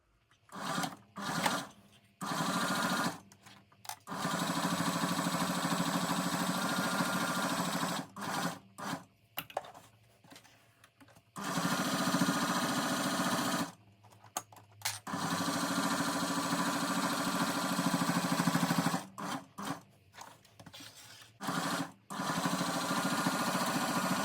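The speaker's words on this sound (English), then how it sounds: "I'm gonna sew it around like this, and I'm gonna leave the top open." Sewing machine stitching around a small denim shoulder bag, running in long steady whirring passes broken by several brief stops, loud and close with no voices.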